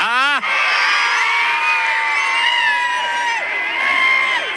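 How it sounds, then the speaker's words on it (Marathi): A large outdoor crowd cheers and whoops loudly at a bullock cart race semifinal, a continuous dense roar of shouting voices with a sharp rising whistle at the start, close and sustained throughout. "वारल्याने सुद्धा जल्लोष साजरा केला आणि खायल्याने सुद्धा जल्लोष साजरा केला"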